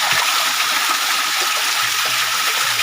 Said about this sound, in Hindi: ऊपर से पूरा झरना पानी निकलते हुए आ रहा है, एकदम पहाड़ से लगा हुआ।